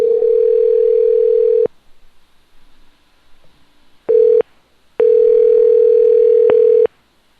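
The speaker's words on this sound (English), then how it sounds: "Are we ready to dial?" A telephone dial tone sounds while a call is being placed: a steady, loud tone lasting about a second and a half, a long silence, a short burst, then another long stretch of the same tone, with no voices.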